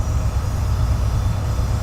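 A large train in the video game Train Simulator on the South Wales Coastal route rumbles steadily with low, continuous engine and wheel noise, with no voices over it.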